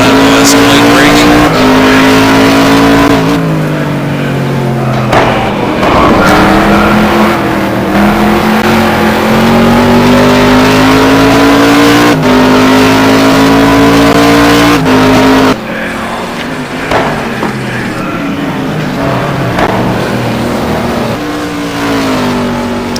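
A GT1 race car in a racing video game at Anderstorp, its engine note rising through the gears, dropping sharply under late braking and climbing again, loud and close, with commentary voices running over it throughout.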